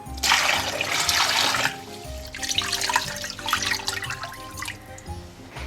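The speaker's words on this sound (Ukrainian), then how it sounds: "Заливаємо холодною водою" Cold tap water pours into a large pot holding pork knuckles, a loud rushing splash that pauses briefly and then resumes with uneven gurgling.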